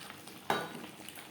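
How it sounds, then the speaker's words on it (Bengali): Par-boiled potatoes sautéed with spices in a pan for a rui fish curry, giving a short soft sizzle with a single clink of a stirring utensil partway through, close and fairly quiet. "মশলার সাথে আলু বেশ ভালো করে কষিয়ে নেওয়া হয়ে গেছে"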